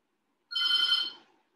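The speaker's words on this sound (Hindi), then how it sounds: "ये फोन आ रहा है" A telephone rings indoors in one clear electronic burst of about a second, then fades, with no voices around it.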